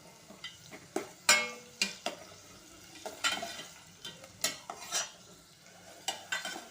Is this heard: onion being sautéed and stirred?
yes